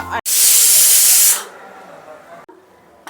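A loud burst of hissing steam from a pressure cooker whistle while cooking mutton keema lasts about a second, then fades into quiet background noise.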